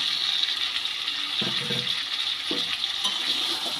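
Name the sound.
stir-frying jackfruit with spices and fried potatoes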